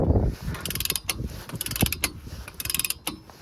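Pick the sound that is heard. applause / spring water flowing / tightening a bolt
tightening a bolt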